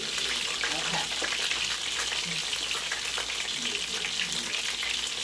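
Cube steak sizzles and fries steadily in a pan, a loud, continuous hiss with faint crackles and occasional utensil scrapes underneath, running unbroken from start to finish with no talking.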